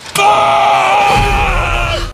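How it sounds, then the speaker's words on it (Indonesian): A scream rings out from inside a child's toy tent at night in the horror film The Conjuring 2: a loud, sustained, strained cry with groaning quality that holds steady for about two seconds, alone without talk. "tiba-tiba mendengar suara teriakan di dalam tenda mainannya"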